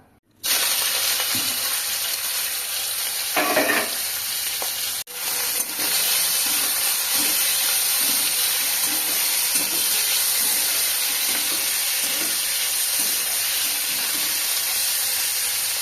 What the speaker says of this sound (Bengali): তেল দিয়ে দেবো দিয়ে চিংড়ি মাছগুলো ভেজে নেব